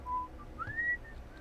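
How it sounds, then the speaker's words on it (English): A short, faint whistle with two tones, a low steady note followed by a rising higher one. "I'm just whistling"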